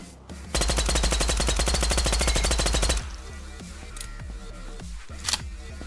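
Automatic weapon fire on a shooting range in the video game Shadows of Soldiers: a loud, rapid, evenly spaced burst lasts about two and a half seconds, then gives way to quieter scattered impacts and clicks.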